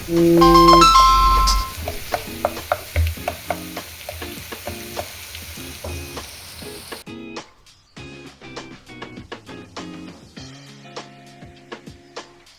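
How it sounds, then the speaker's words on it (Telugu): Onions and ginger-garlic paste fry in a pan for a Telangana-style mutton curry, a steady sizzle with repeated scraping stir strokes and clinks, loudest in the opening seconds then continuing more softly with sparse utensil taps. "అల్లం వెల్లుల్లి పేస్ట్ కూడా పచ్చి వాసన పోయేంత వరకు కలుపుకోవాలి వేయించుకోవాలి"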